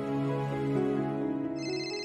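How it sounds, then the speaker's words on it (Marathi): A mobile phone ringtone plays indoors, a steady melodic electronic tone that rings continuously for about two seconds with no talking over it. "माझा फोन वाजतोय"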